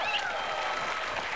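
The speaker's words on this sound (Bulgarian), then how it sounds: "И аплодисменти за Алек!" Applause from a TV studio audience for Alek, a continuous, fairly soft patter of many hands clapping without a break.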